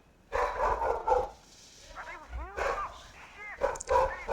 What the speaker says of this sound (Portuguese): um cachorro latindo aqui, muito alto, constantemente